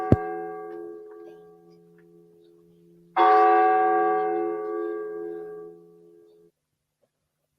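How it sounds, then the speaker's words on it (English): A single large bell rings out as an alarm in a junior school production of Macbeth, struck once loudly with a long sustained hum, after a fainter earlier stroke, then fading away into quiet. "Ring the bell."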